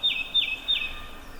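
Wild birds chirping outdoors in the middle of winter, three quick, clear repeated chirps close together, then fading to a quiet background.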